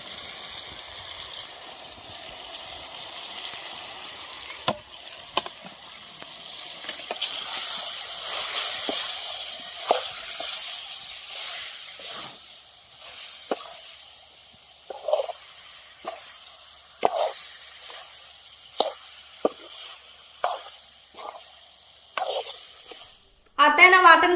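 Chicken frying in a pan with masala just added, a soft continuous sizzle with repeated scraping and stirring clicks of a spoon against the pan, close by, with no talking.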